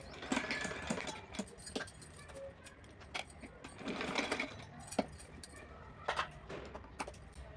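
A sewing machine stitches the edge of a small summer dress in quick mechanical bursts, a close, fairly quiet whirring clatter that starts and stops with short pauses, alone.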